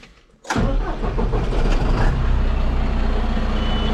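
A John Deere 5105 M 105-horsepower tractor engine cranks and catches at about half a second, then settles into a loud, steady, low diesel idle rumbling close by.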